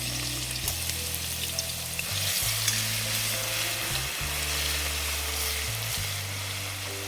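A big spoonful of garlic paste sizzles in hot oil for pav bhaji, making a bright, steady crackling hiss. A low hum rises and falls beneath it.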